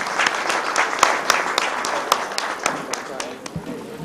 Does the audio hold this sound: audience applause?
yes